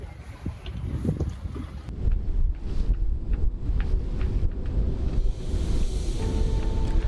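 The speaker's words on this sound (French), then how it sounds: "Le vent se met à souffler fort et tourne dans notre nez" Heavy wind rumbles and buffets continuously, loud and low, with rushing noise of open water, heard aboard a sailboat at sea in a strong headwind; no one speaks.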